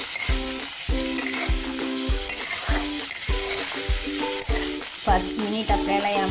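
Capsicum and onions fry in a pan for a besan shimla mirch dish, giving a continuous loud sizzle with rhythmic scraping stirs repeating about every half second, and no voices.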